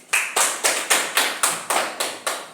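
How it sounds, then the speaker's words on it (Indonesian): A classroom group claps together in steady unison after a group presentation, with about eight sharp, evenly spaced claps in a quick regular rhythm and no talking. "Kita berikan aplaus"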